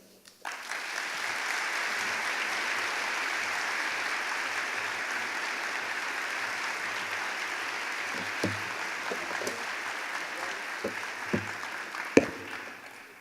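Conference audience at a sustainability higher-education opening ceremony breaks into sustained applause to welcome a speaker, dense steady clapping filling the room for about eleven seconds before thinning out to a few scattered claps.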